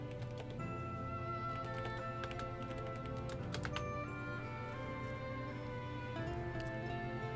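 Keys tapped on a computer keyboard during an online fighting-game tournament on PC, with a steady patter of light clicks running throughout under a constant tonal hum of game music.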